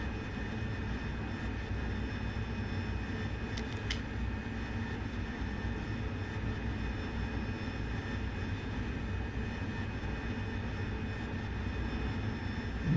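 A Harrier jet engine in the DCS World flight simulator drones steadily, a constant broadband roar with a faint high whine heard at moderate level and without talk.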